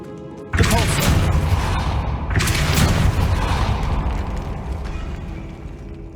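A Depulso spell in Hogwarts Legacy blasts twice, each a sudden loud boom that rolls into a long rumbling decay and fades slowly.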